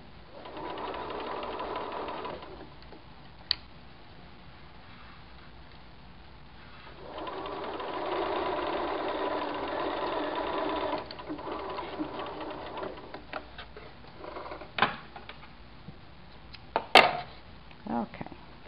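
A sewing machine stitches an inset corner in two bursts of steady whirring, soft and close, with quieter pauses, clicks and handling noises between them and a voice talking over the work.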